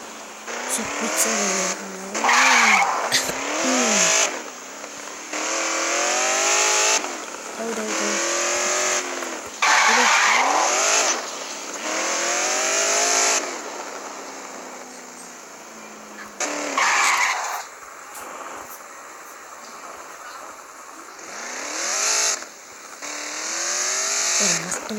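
Car engine revving and tires skidding in the mobile game Gangstar Vegas, with steady driving and repeated screeching skids over about 25 seconds, with no talk.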